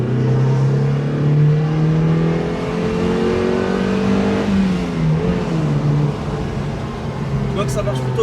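A Mazda MX-5 NBFL sports car engine revs hard and accelerates, its pitch climbing and falling through gear changes, loud and close, with a voice talking over it.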